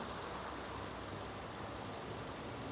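A car engine idles steadily, a faint continuous hum with broadband hiss and no change in pace, heard alone for a few seconds.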